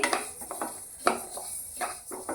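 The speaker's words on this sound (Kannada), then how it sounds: "ಚಟಪಟ ಸೌಂಡ್ ಮಾಡುತ್ತೆ ಆದರೆ ಅದು ಸಿಡಿದು ಹಾರಿ ಹೋಗೋದಿಲ್ಲ" Flax seeds dry roasting in a pan give off scattered crackles and light rattling scrapes as they are stirred, close and fairly quiet, with no voices.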